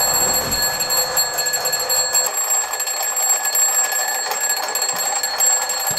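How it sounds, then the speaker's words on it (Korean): An alarm clock rings steadily in the early morning, a continuous high electronic tone with bright repeating harmonics, fairly loud and alone with no talking. "매일같이 이른 아침 알람이 울리는 것으로 하루를 시작하였고"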